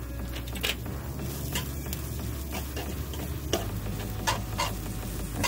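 Bacon and breakfast sandwich fillings cooking in a pan inside a van, a steady close sizzle with small ticks and pops and occasional utensil clinks, no talking.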